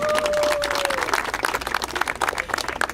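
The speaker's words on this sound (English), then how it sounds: "you did win for the largest applause" A small outdoor crowd claps at a tree nursery ribbon cutting, a brief burst of scattered applause for the event partners, moderately loud.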